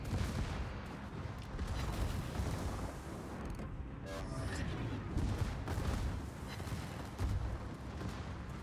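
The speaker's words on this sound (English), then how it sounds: "Firing at his guns again." Naval guns fire during a video game sea battle, a dense, continuous rumble of heavy booms and crashes without pause, with faint talk mixed in.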